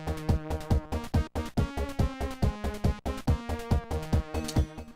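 Sonic & Knuckles chiptune-style game music alternating between a root chord and a flat-seven chord, with punchy bass notes and bright stacked synth tones in a steady rhythmic pattern, loud and without talk.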